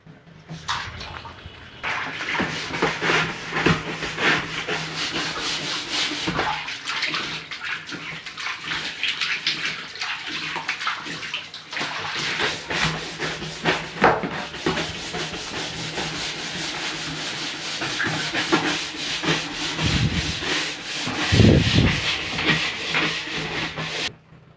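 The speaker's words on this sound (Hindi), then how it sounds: "इसको हमने बहुत बढ़िया से क्लीन कर लिया है दोस्तों ये कपड़े धोने वाले ब्रश से" A laundry brush scrubs the inside wall of a 1000-litre PVC water tank in steady, rapid rasping strokes with some wet swishing, close and continuous, with a few dull knocks near the end and no talking.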